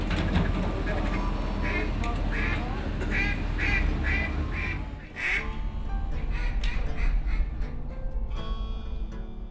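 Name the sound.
duck call being blown, quacking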